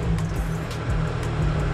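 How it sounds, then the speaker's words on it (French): A Lotus car engine given short throttle blips up to about 5000 rpm in a garage, a loud continuous close engine roar with slight rises in pitch. "Là, on a donné des coups de gaz jusqu'à 5000."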